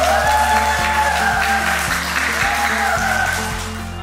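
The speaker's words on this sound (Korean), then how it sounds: "휠체어 댄스는 학생들로부터 뜨거운 박수갈채를 받았습니다" Students applauding after a wheelchair dance, a dense wash of clapping that fades slightly toward the end, heard beneath steady background music with a rhythmic beat.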